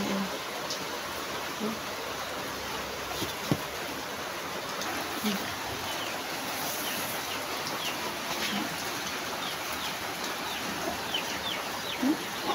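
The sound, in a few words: hungry chickens clucking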